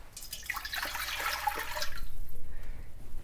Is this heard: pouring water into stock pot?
yes